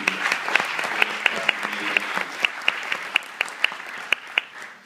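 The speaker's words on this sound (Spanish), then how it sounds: "De parte de ustedes, otro aplauso para nuestro autor público." Sustained audience applause for an author at a cultural event in Higüey, dense steady clapping with a few sharper individual claps standing out, fading toward the end.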